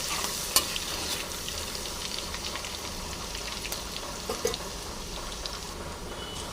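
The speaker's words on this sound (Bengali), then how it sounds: "লঙ্কা কোচানো। ভালো করে ভেজে নেব লাল করে।" Chopped ginger and chilli fry in hot oil in a pan with a dense, crackling sizzle, spattering like light rain, and a few louder stirring clicks, with no voices.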